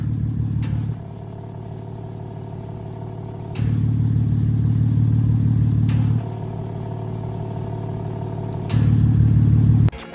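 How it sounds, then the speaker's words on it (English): A BMW M4 idles with its exhaust valves fully open, giving a deep, steady low burble with a few louder surges in level. No one speaks over the close, continuous engine note. "That's the exhaust fully opened. Car's idling."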